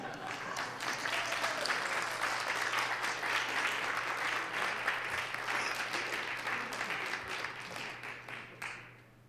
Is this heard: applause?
yes